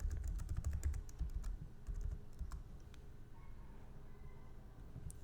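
Computer keyboard keys tapped in quick, irregular clicks as a password is entered, faint and close against a low background hum, with no talking.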